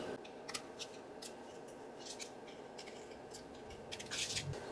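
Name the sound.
small scissors trimming a paper card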